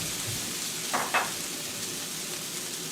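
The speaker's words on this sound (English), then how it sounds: "Give it a final stir fry." Noodles and green onions stir-frying in a hot pan give a steady, loud, close sizzle throughout, with a couple of brief stirring scrapes near the middle.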